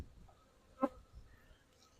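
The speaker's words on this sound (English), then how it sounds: "sometimes the bees attack my microphone" A honey bee near its hive zips past close to the microphone in one short, sharp buzz against an otherwise quiet outdoor background, with no one speaking.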